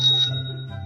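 A doorbell rings once at a house door, a bright sustained chime over a low steady hum, fading gradually in a quiet interior.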